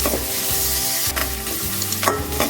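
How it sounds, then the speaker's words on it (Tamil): Garlic, curry leaves and chopped onion frying in a pan give a steady close sizzle, with a few short stirring scrapes and clinks on top. "வெட்டி வச்சுருக்கிற வெங்காயம் போட்டு இங்கே நல்லா செவக்க பிடிக்கணும்"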